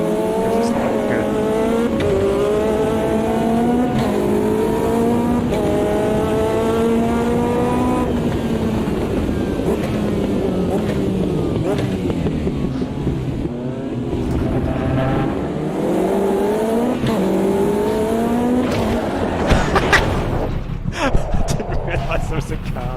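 Race car engines roar and rise through the gears in the sim racing game Automobilista 2, with tire squeal near the end, running steadily and loud under a speaking voice.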